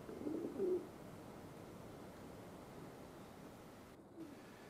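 A couple of soft low racing pigeon coos near the start, recorded around a loft in the early morning, then steady outdoor background noise.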